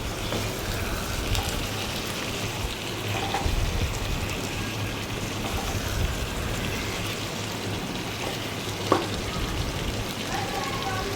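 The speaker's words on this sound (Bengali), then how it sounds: "এবারে ভাজা মাংসগুলো দিয়ে দিলাম দিয়ে এবারে ভালো করে কষতে থাকবো" Fried chicken pieces sizzle in hot oil as they are sautéed for a raw mango chicken curry, a dense, steady crackling hiss with occasional louder pops.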